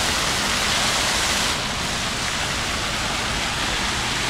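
Park fountains in Donetsk's Park of Forged Figures splash and spray in a loud, continuous rushing wash of water heard up close.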